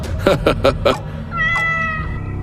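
A tomcat with a lit candle on its tail meows in a drawn-out, wavering cry, loud and close, after a few short soft thuds.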